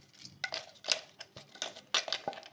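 Ground spice mix being scraped and tapped from a grinder jar onto a plate, a series of short metallic clinks and scrapes at an uneven rhythm, close and fairly quiet.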